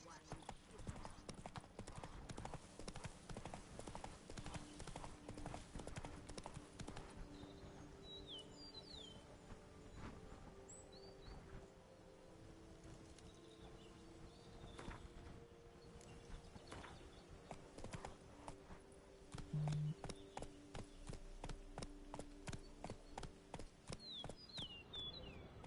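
Hooves of a warhorse in The Witcher 3 clip-clop in a steady galloping rhythm for the whole stretch, with faint birdsong in the background and a voice talking over it.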